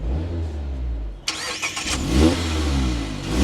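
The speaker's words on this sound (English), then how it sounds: "with my foot on the brake and the clutch, we can fire this up, take a listen to how this sounds" A convertible sports car engine is started with clutch and brake pressed: a low hum, then a sudden crank and catch as it fires, rising briefly to a rev before settling into a steady idle, close and with no talking.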